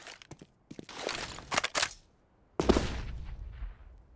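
Gunfire from a CS:GO match on Dust2, a professional esports game, comes as bursts of rapid shots, then a pause and a louder, heavier volley, all sharp and close.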